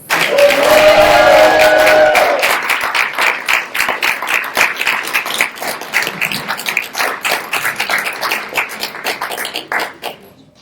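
An audience at a celebration for San Mateo County's 5th Poet Laureate, Antonio López, bursts into loud applause. The clapping is sustained and thins gradually into scattered individual claps.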